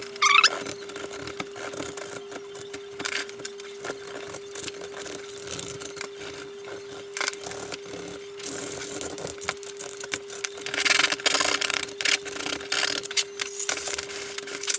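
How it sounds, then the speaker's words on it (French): Small hand files rasp against plywood in short, uneven scraping strokes, close and moderately quiet, over a steady faint background hum. "maintenant on va tout limer avec nos petites limes"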